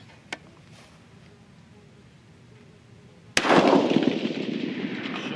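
A single sharp rifle shot during a charge weight test, fired with a 43.8-grain powder load, cracks after a quiet stretch and leaves a long decaying echo; a faint click sounds earlier.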